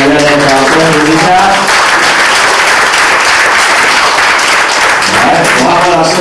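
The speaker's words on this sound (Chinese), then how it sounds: "给魏老师热烈掌声鼓励一下。" An audience in a hall bursts into warm applause for a judge at a speaking competition, dense close clapping that swells and holds, with a voice speaking briefly at the start.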